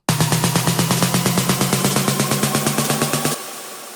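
A progressive house build-up of rapid, evenly repeating synth pulses with a low tone underneath, loud and driving, then cutting off into a fading wash.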